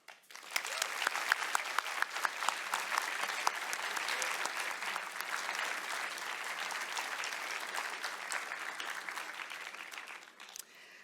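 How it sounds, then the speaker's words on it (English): Sustained audience applause at a university graduation awards ceremony for the Class of 2024, a dense steady clapping from a large crowd that starts abruptly, holds evenly for about ten seconds, then tapers off. "I hope that you will all join me in a big applause"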